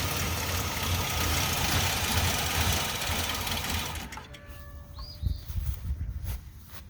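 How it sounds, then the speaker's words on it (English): A 2003 Ford Explorer engine sputtering as fuel is purged from the line, a fast rough chattering run for about four seconds that falters and dies into uneven knocks and quieter rattles. "So you hear it sputtering."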